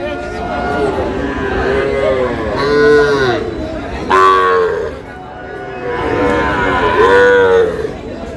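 Cattle, small bull calves at a livestock market, moo loudly several times in long drawn-out calls with market chatter behind them.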